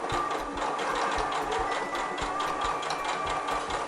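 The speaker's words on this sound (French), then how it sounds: "Plus je couds doucement, plus ma couture sera précise." Sewing machine stitching a bias binding onto a homemade fabric barrier mask, running slowly and steadily in a fast, even rhythmic whir of needle strokes, close and continuous with no talking.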